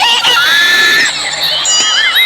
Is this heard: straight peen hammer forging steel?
no